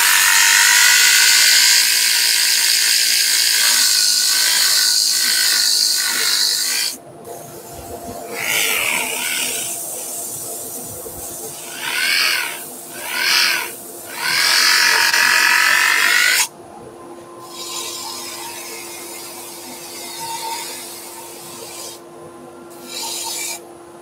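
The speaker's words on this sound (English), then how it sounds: "now to the rotary sander" A rotary sander works at 180 grit on a rough-turned wooden bowl spinning on a lathe, giving a steady, close abrasive rasp with a high whine that breaks off and resumes, swelling in short surges midway through.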